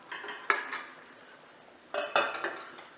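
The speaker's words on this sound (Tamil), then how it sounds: "கம்மி பண்ணிவிட்டு ஒரு பிளேட்டை வச்சு நம்ம மூடி வச்சிடலாம்." A plate is set as a lid over a pan of mango kesari on low heat, giving two quiet bursts of ceramic-and-metal clinking and clattering against a faint background, with no talk.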